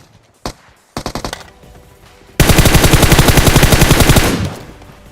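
Gunfire in the battle royale game PUBG on a military base map: a lone shot, a short rattling burst, then a long sustained automatic volley of rapid, loud, close shots that fades at the end.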